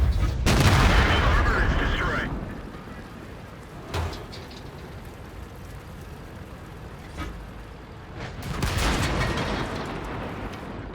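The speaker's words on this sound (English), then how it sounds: "Firing a snapshot at that T-57 Heavy" Tank cannon fire in World of Tanks from an STB-1 shooting at a T-57 Heavy: three heavy booms with rolling echoing tails. The first and last blasts are loud and long, and a shorter shot falls between them over low engine rumble.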